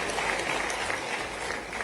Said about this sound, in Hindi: जरा ताली वाली बजवा दो सबके लिए।